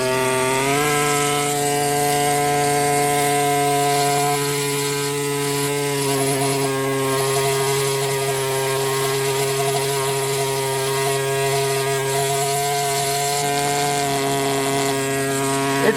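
A steel stylus tool rubs steadily against an ammonite fossil specimen during preparation, giving a continuous buzzing, grinding whine that holds at an even level close up, with no talking.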